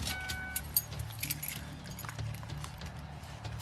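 Car keys jangling briefly as they are passed over during a roadside traffic stop on a wet road, a light metallic rattle over faint vehicle rumble, no voices.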